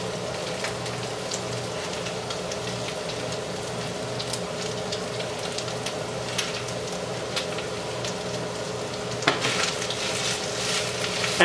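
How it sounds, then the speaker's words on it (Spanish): Broccoli and onion fry in a pan for beef and broccoli, a steady close sizzle with light crackles and occasional stirring clatter, no voices over it. "Add broccoli and onion."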